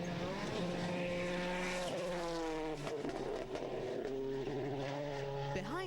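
A Skoda Fabia rally car races through a stage of the 2006 Wales Rally GB, its engine howling steadily as the pitch climbs and drops through gear changes, with commentary talk running under the continuous engine roar.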